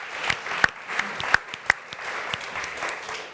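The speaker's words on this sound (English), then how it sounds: "maybe we give a round of applause first." A crowd applauds in a steady round of clapping with a few sharper, louder claps standing out, sustained for a few seconds.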